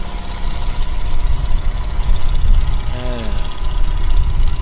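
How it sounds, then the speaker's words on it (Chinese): A tractor engine idles steadily after starting on a shore where fishing boats are hauled out, a close, continuous low rumble with a brief rising whine partway through. "看这拖拉机挺厉害，一打就着的"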